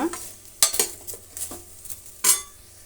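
Bitter gourd with turmeric frying in a pan, with a steady low sizzle broken by several sharp scrapes and clinks of a spoon stirring at irregular intervals, close and fairly loud, no voices.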